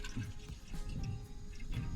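Water pours into a cooking pot inside a camper van, a continuous low burbling splash with some dripping texture, close and fairly quiet, with no talk over it.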